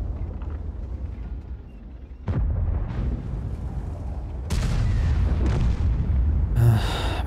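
Tank guns fire in the World of Tanks video game, with a sudden heavy boom followed later by another louder blast and a rumbling background of battle noise.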